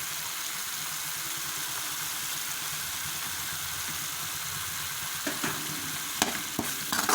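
Tomato, turmeric and chilli powder sautéing in a pan for chicken gravy, a steady close sizzle and hiss throughout, with a few scraping stirs and clinks near the end and no talking.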